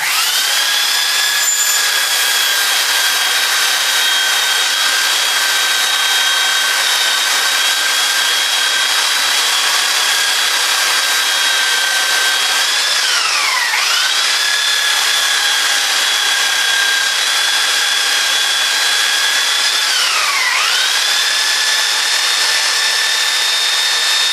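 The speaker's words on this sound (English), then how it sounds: "I'll just clean that up with the belt sander so it's nice and square." Belt sander squaring up a rough-cut piece for a tuna tube with a funnel fitting, a loud steady whine held close for over twenty seconds, dipping briefly twice as the work is pressed into the belt, no talking.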